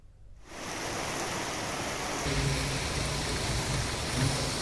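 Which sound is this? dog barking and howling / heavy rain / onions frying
heavy rain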